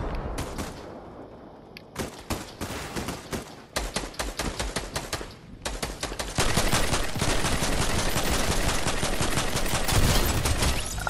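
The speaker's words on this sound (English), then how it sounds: "this is a bot shooting" Video game gunfire from a bot, bursts of rapid automatic shots with brief pauses, then a long unbroken stream of fire growing louder toward the end, no speech.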